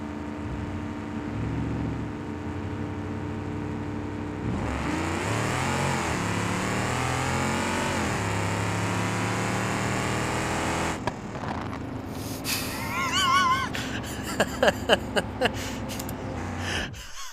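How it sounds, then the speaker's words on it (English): A car engine in the BeamNG.drive video game revs hard with nitrous engaged. A loud sustained engine roar rises and falls in pitch, then shifts into a harsher, choppier tone with sharp bursts near the end, with no speech. "I think I might flip the nitrous on"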